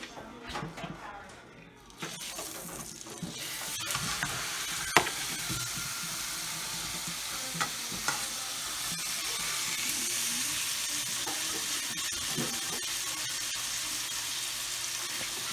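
A pastured steak, with butter in the pan, starts sizzling and frying after a moment's quiet, settling into a steady loud hiss with small pops and crackles while someone talks over it.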